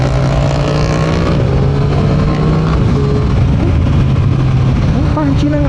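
A Triumph Street Triple RS motorcycle rides in rain mode, its engine droning steadily with shifting pitch under strong wind noise, with a rider talking over it.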